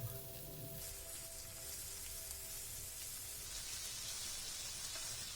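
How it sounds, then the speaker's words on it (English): Butter sizzling in a hot pan with chicken for a sizzler, a steady crackling hiss throughout, close and fairly quiet, with no talking. "I will add some more butter on the sides so that it sizzles from all the sides"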